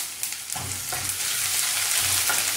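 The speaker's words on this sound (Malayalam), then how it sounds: "കടുക് പൊട്ടി വരുമ്പോൾ നമുക്ക് 6 ചെറിയ അല്ലി, വെളുത്തുള്ളിയും 1 ചെറിയ കഷ്ണം ഇഞ്ചിയും കൂടി ചതച്ചത് ചേർത്ത് കൊടുക്കാം" Mustard seeds with crushed garlic and ginger fry in oil over a low flame, a continuous bright sizzle with soft popping and a few stirring scrapes.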